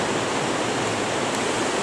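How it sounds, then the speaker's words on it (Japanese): Loud, steady roar of the waterfall at Kiyotsu Gorge in Niigata, a dense continuous broadband rush heard from a gorge viewing platform, with no voices. "なんか滝の音がすごいね。"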